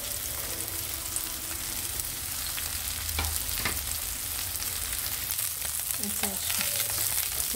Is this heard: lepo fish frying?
yes